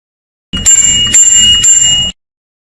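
A bell on a kids' freestyle bicycle rings three times in quick succession, each ring a loud bright metallic strike that sustains briefly and overlaps the next, then stops.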